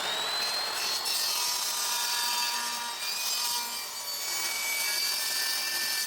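A board of vinyl plank flooring is sawn to length for a stair remodel, the blade rasping in steady back-and-forth strokes close by, continuous with small dips in intensity and no talking.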